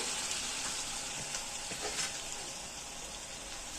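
Minced meat frying with onion, a spoonful of ghee and a little oil, giving a soft, steady sizzle with faint stirring scrapes and no speech.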